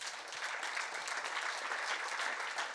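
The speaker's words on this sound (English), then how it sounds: "Give him a round of applause." An audience at a hockey federation event gives a brief, even round of applause, many hands clapping together at moderate volume.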